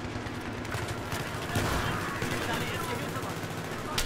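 Gunfire in Battlefield 3: Close Quarters, a distant, muffled fusillade of rapid shots running steadily under a noisy game backdrop.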